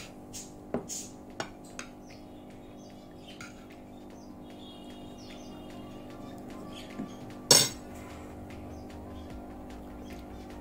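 A spoon clinks sharply on a plate during a meal of Lucknowi biryani, a few light taps early on and one louder clink later, over a quiet room with faint chirps.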